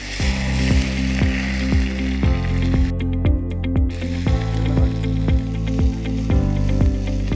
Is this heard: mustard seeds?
yes